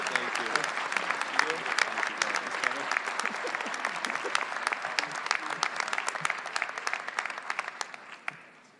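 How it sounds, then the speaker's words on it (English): Sustained applause from a law school commencement audience, steady dense clapping heard at moderate distance that gradually fades toward the end. "please join me in a round of applause for the 2018 friend of the class, Professor Patrick Connors."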